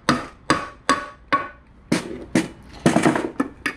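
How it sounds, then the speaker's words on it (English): A hammer taps metal to separate the transmission case of a front-wheel-drive MINI Cooper during a limited-slip differential install: about eleven sharp, close knocks at a steady rhythm, a few landing in quick pairs, with no talking. "so I'm going to grab a hammer and tap lightly."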